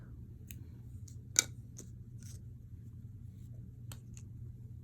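Scissors snip through crochet yarn while tying off a flip-flop appliqué: a single crisp cut near the start, a few faint clicks after it, all alone over a low steady room hum.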